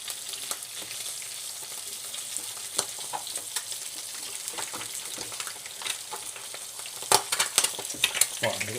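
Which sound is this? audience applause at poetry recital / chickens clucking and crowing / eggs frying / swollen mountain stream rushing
eggs frying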